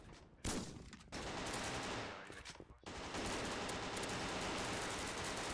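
Sustained, loud automatic gunfire from the Call of Duty video game, a dense continuous roar of shots broken by two brief pauses.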